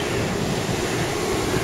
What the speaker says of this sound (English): The sea is very angry today.